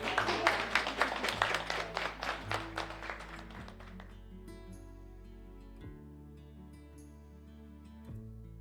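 An audience at a painting-studio exhibition opening in Dobele claps together, a dense burst of applause that fades out over about four seconds, leaving quiet room sound with faint low hum.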